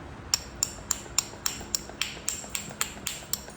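A flint point is beveled along its edge by flintknapping, with a steady series of about a dozen sharp, bright clicking strikes at an even rhythm, close up and without talk.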